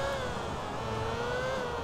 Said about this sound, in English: Does not sound like an F1 car though.